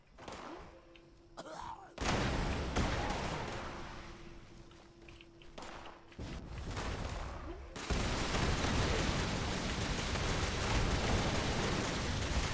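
Explosions and gunfire in the Fallout 76 video game: a sharp blast hits early, then dense rolling bursts of shots and booms go on nearly nonstop, loud and close, with a brief tonal whine near the start.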